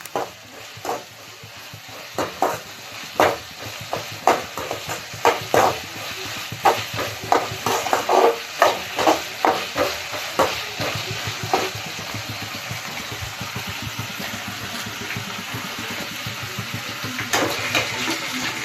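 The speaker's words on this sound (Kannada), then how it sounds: "ಈ ಈರುಳ್ಳಿನ ಚೆನ್ನಾಗಿ ಕೆಂಪಾಗೋ ತನಕ ಆಯಿಲಲ್ಲಿ ಚೆನ್ನಾಗಿ ಫ್ರೈ ಮಾಡಬೇಕು." Two finely chopped onions fry in oil in a pan, a continuous sizzle broken by repeated scraping stirs from a spatula, close and fairly loud, with the stirring easing off in the later part.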